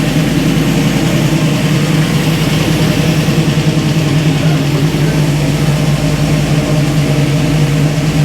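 A tuned small-block V8 idles through its mufflers with a steady, deep, loping rumble, close and loud, running continuously with no voices over it.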